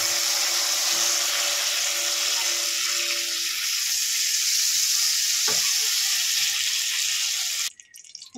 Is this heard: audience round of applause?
no